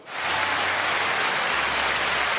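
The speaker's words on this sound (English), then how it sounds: "That is rain behind me." Steady, dense patter of rain pouring down outdoors in Goa, a broad continuous hiss that could almost pass for distant clapping, filling the whole moment with no voices.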